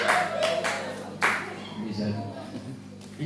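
A celebration audience breaks into clapping in short bursts, loud at first and then thinning out, with voices and talk running underneath.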